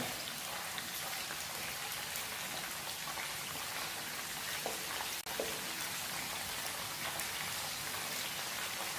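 Fish pakora in spicy coating deep-frying in hot oil, a steady, dense crackling hiss like rain that holds evenly throughout, with a brief clink partway through.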